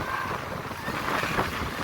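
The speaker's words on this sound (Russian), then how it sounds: "Ветер сильный-сильный." Strong wind buffets the microphone on a beach at Borovoe in July, a continuous broadband roar with gusty swells and no clear talk.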